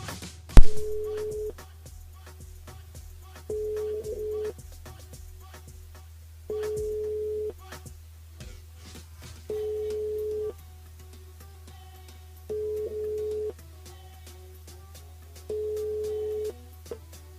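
Ringback tone of an outgoing telephone call placed during a live radio show, six evenly spaced steady beeps about a second long with pauses between them, clear over a low hum.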